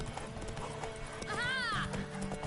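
A horse in The Witcher 3 video game gallops with rhythmic hoofbeats, then lets out a clear whinny midway, with a voice speaking over the scene.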